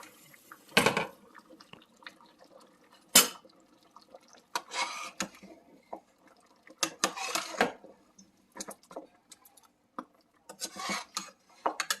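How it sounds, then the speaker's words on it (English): Kare-kare broth of beef bone marrow, pork hock, pork loin and beef roll boils hard in a pot, giving irregular close bubbling pops and sputters with quiet gaps between bursts. "It's really heavy boiling."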